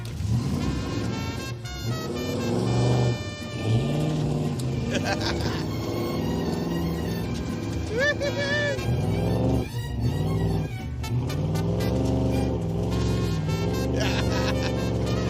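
A 1986 Pontiac Firebird Trans Am drives along a snowy road with a continuous loud engine rumble and revving. People talk inside the car over the engine noise.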